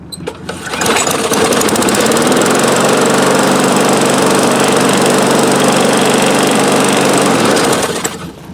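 A Craftsman push lawn mower's small gasoline engine runs loud and steady at close range, starting up within the first second and holding a constant buzzing drone before cutting off near the end.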